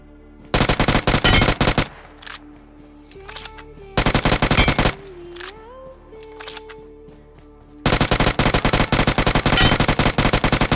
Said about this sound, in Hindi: बेफालतू मुझे ज्यादा गोली चलानी पड़ गई ऊपर से।